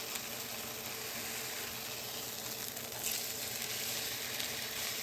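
Meat sizzles and fries steadily in a hot pan just after being flipped during home cooking, a dense continuous crackle heard close up and fairly loud, with no voices.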